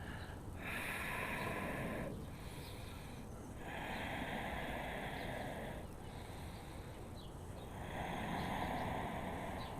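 Deep breaths during a strong flow yoga class, several long slow inhales and exhales close to the microphone, evenly spaced and alone.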